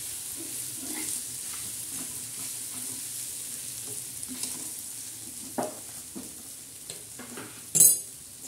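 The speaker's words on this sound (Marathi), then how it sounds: "तळायचा तव्यावर." Peanut and green chili thecha fries in oil on a griddle, a soft continuous sizzle broken by scattered spatula scrapes and taps, then a sharp metallic clatter near the end.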